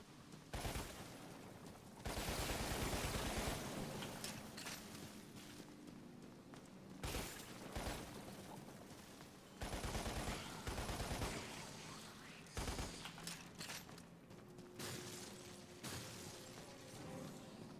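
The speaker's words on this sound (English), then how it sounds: "The machine gun's your best friend in early game." Machine gun fire in the video game Lost Planet, coming in repeated rapid bursts with short gaps between them, mixed with other game effects and a steady background din.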